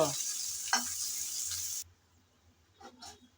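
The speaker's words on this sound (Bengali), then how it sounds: "দিয়ে দিচ্ছি পেঁয়াজ কুচি পেঁয়াজ কুচি সামান্য নেড়ে চেড়ে বেজে নেব" Chopped onion dropped into hot oil gives a loud, steady sizzle that suddenly cuts off about halfway, followed by faint stirring scrapes in a quieter pan.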